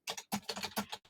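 Rapid typing on a computer keyboard, close and clear, with quick bursts of key clicks separated by short pauses and no talking.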